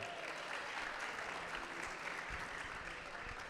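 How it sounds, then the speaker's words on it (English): A distant, faint round of audience applause at a restaurant and hospitality industry event, a steady wash of clapping across a large room. "let's give them a round of applause"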